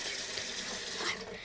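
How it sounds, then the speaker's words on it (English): Water runs steadily from a household tap into a sink or watering can for garden worms, a close, continuous broadband gush that holds level for the whole stretch without pauses. "So I do 5 seconds of hot water"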